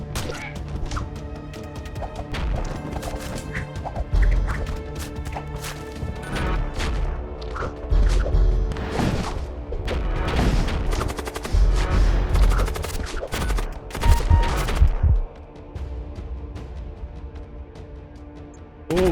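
Ion weapons and other ship weapons striking a vessel in the space combat game Void War, a dense barrage of sharp impacts, crashes and rapid gunfire-like bursts with a layered background hum, loudest in the middle before tapering off.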